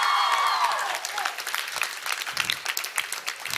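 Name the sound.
audience applause after a dance performance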